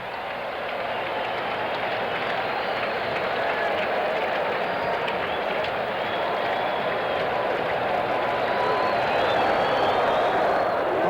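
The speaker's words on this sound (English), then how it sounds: "the crowd comes to its feet in total" Baseball stadium crowd at a 1985 Giants at Mets game roaring and applauding as fans rise to their feet, a dense, continuous wall of cheering and clapping that swells slightly toward the end.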